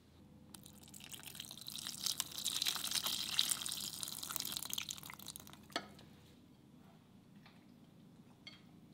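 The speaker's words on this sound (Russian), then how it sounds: "Добавим воду в наш замес." Water pours into a dough mixture for pancakes, a soft hissing trickle that swells for several seconds, then fades into faint stirring and a few small clicks, quiet and close.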